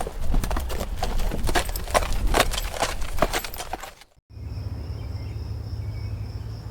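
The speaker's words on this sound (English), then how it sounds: "horseback riding," Horse hooves clip-clop in a steady rhythm during horseback riding in the Chisos Basin of Big Bend, with crickets chirping, then cut to a quieter scene of insect buzz and low hum.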